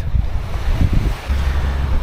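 Big ocean waves rolling onto a beach in Rayong, Thailand, a steady low roar of surf with wind buffeting the microphone throughout, swelling in slightly irregular surges.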